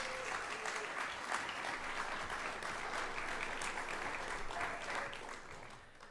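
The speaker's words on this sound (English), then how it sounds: "Let's give them all a big round of applause." Dense, sustained audience applause at a university athletic hall of fame induction ceremony, a large crowd clapping steadily and fairly distant before tapering off at the end.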